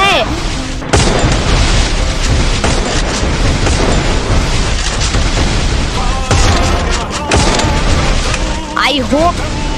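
Gunfire in the Free Fire mobile video game, loud sharp shots and booming bursts in irregular clusters, with a near voice talking over the action throughout.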